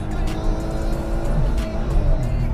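A 2010 Firefly RR310 motorcycle pulls hard at full throttle, its engine roaring loudly and steadily with rushing wind noise and no speech.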